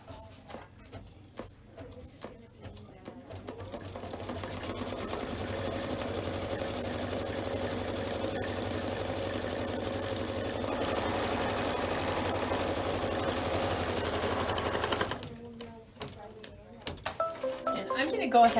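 Cream placement line stitched by an embroidery machine for a Kimberbell Paisley in Bloom belt bag: a steady, even mechanical whirr runs from about three to fifteen seconds, with a speaking voice and brief handling noises before and after.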